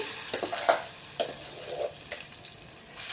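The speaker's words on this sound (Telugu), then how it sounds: "మిరపకాయలు అన్నీ వేగిపోయినాయి మంచిగా" Red chillies fry in a pan for a chutney, giving a soft, steady sizzle with occasional brief crackles and stirring scrapes, fairly quiet and close, with no talking.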